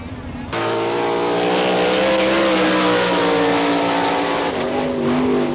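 All Stars race cars roar past on an oval at Wichita, Kansas, a sustained loud multi-engine drone with shifting pitch as they circle, starting abruptly and rolling on at full volume.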